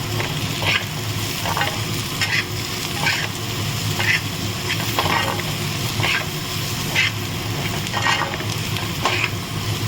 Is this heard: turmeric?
yes